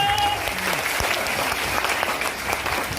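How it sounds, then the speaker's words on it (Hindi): Loud, continuous applause from a seated audience at a business seminar, a dense wash of many hands clapping with faint crowd voices and a brief tonal squeak early on. "तालियां बजाइए अपने लिए"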